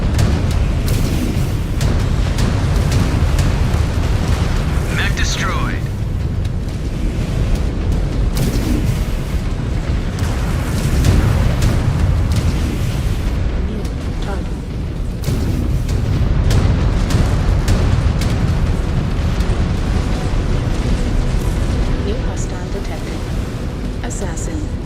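A mech explodes in MechWarrior 5: Clans with deep, rumbling booms and blasts. The heavy, continuous low roar of battle carries through the whole stretch.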